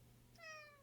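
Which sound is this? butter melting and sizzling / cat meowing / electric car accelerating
cat meowing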